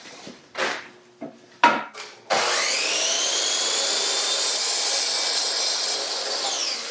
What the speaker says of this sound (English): So I'll take this over to the miter saw.